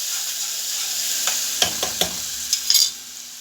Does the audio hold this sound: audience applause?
no